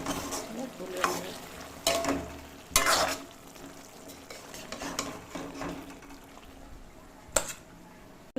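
A spoon stirs taro stolon curry with fried cumin in a pan, giving soft sizzling and several scraping knocks against the metal, close and fairly quiet.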